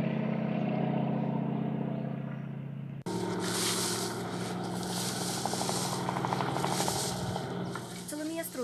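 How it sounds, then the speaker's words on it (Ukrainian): Crop-spraying airplane turning low over village houses and orchards, a loud steady engine drone that swells abruptly partway through and stays close overhead. "Розвертаються літаки прямо над будинками, над садами."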